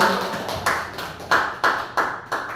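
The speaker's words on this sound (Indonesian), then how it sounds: "tepuk tangan untuk Bapak Yusuf" Applause from a classroom of students for a teacher, heard as a dense patter of clapping rising in several bursts at close range, with faint voices in the background.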